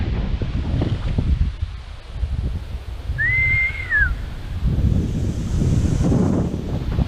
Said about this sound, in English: Hear this wind now?